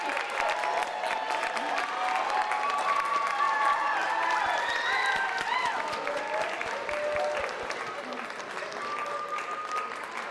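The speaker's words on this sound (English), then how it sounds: "And now I want us to give a round of applause to all of our apprentices from" Sustained applause from an audience at a recognition night for early care and education apprentices fills the room, steady and fairly loud, with a few scattered cheers and voices mixed in before easing slightly toward the end.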